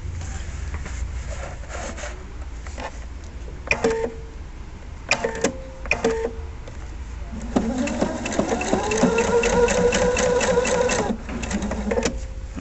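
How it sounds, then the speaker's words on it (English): A sewing machine stitches fabric along the edge in short bursts that stop and start, ending in a longer steady run of needle whirring. "I'm going to stitch down here as though this is one continuous piece and continue back down along the edge"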